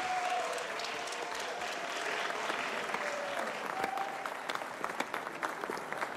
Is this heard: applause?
yes